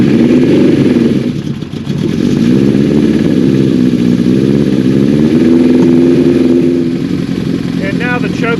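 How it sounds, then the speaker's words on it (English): A 1983 Suzuki GS1100 motorcycle idles on full choke while warming up, a steady mid-pitched engine drone with a brief dip early on, heard under someone talking throughout. "I'm going to let the bike continue to warm up for a little bit"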